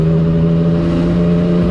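Yamaha MT-09 inline three-cylinder motorcycle engine running steadily with a strong, even drone and a constant pitch, loud and close for the whole stretch.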